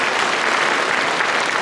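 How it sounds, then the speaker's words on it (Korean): Audience applause at a mayor's town-hall dialogue with citizens in Nonsan, a continuous, even crowd clapping at steady loudness throughout, with no voices over it. "응원의 박수 한번 부탁드리겠습니다"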